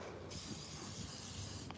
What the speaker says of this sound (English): Yeah, it's spraying.